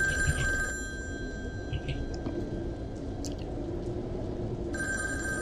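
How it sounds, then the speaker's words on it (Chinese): An old-style telephone rings in the horror video game Devotion: a tonal, buzzing ring at the start, a quiet stretch of low ambient rumble and faint drips, then the ring returns at the end. No voices. "电话响了。"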